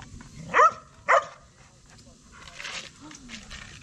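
A dog in a forest beside the Kurtboğazı reservoir near Ankara gives two loud, short barks close by, followed by quieter rustling and faint vocal sounds.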